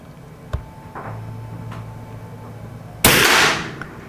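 An Edgun .357 air rifle fires at a paper target, giving a sharp crack early on, faint mechanical clicks, and then a louder blast that decays over half a second.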